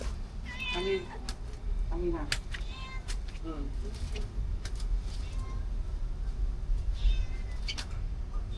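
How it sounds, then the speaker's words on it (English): A house cat meows several times in short harmonic calls near the start and again near the end, over a steady low background hum in a Hanoi home. "The cat is hungry"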